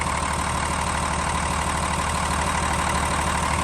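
A 2015 Hino 338 box truck with a lift gate and 266,000 miles runs its diesel engine at a steady idle, a loud, even low rumble with constant knocking texture from start to finish.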